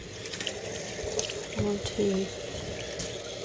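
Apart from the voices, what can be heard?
water rinsing wool in a sink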